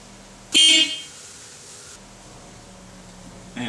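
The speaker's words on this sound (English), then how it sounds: "Horn." A car horn blasts once, short and loud, during a vehicle safety inspection. A quiet hum follows, and a second honk begins at the very end.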